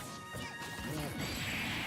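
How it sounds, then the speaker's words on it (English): Down smash attacks landing in a Super Smash Bros tournament match, a couple of sharp crashing hits with swishing whooshes amid a busy game mix, moderately quiet. "Down smash. He used it 4 times and it hit."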